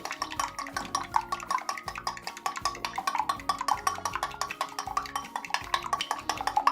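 A fork whisks eggs in a bowl, producing rapid, steady metallic clicking and tapping strokes that repeat evenly throughout, fairly close and without any talking.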